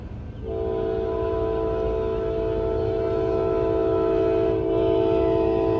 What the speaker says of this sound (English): I guess I still get to see this train.